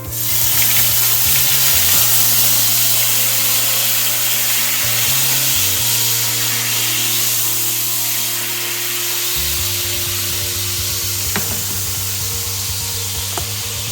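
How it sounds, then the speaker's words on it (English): Beef broth hits a hot frying pan to deglaze it, giving a loud, steady sizzle that runs the full length with small shifts in tone as the liquid bubbles. No one speaks. "Take your beef broth, remove it off, and all you're going to do is deglaze your pan a little bit."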